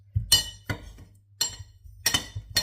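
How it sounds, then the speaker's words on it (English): A metal utensil clinks sharply against glass while honey garlic salmon is being cooked, giving five crisp separate strikes at an uneven pace, close and clear. "Metal on glass."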